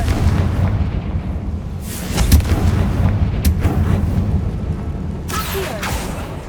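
A Confringo blast spell explosion in a Harry Potter video game, rumbling low booms and crackling bursts over a steady background, with sharper hits around the middle and near the end.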